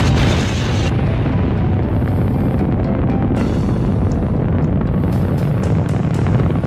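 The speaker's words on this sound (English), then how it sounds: "the nuclear bomb called Little Boy was dropped over the central part of the city" An atomic bomb explosion, the Little Boy nuclear bomb dropped over a Japanese city, rendered as a loud, sustained roaring rumble with deep booming low end that barely fades across the whole stretch.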